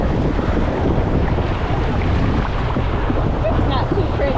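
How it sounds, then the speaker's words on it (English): Cold wind blows hard across the microphone at Disney's Blizzard Beach water park, making a loud, constant roar and buffeting that lasts the whole time. "And the wind is cold."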